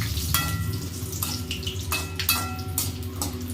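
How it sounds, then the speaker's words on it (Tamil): Bay leaf, cardamom and clove sautéing in oil in a pan, a steady soft sizzle with scattered crackles and light clinks of a utensil, moderately quiet and close. "நல்லா வதங்கிட்டு இருக்கு."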